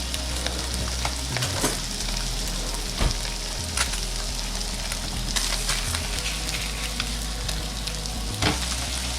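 Fish sautéing in a hot pan alongside potatoes, a steady loud sizzle and crackle with a few sharp clinks and thumps as the pieces are flipped.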